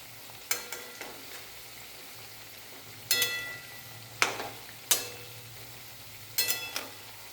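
Vegetable pakora batter dropped into hot oil, giving a soft continuous sizzle broken by several sharp crackling bursts and spatters that flare up and fade, fairly quiet with no talking.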